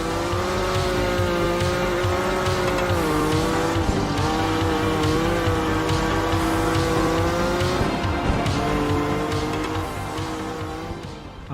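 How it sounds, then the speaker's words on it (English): A rally car in the minimalist racing game Art of Rally drifts with a steady, loud engine drone. The pitch rises and dips as the car slides, with tires hissing and squealing throughout. "a fun, minimalist racing game, but with an emphasis on drifting"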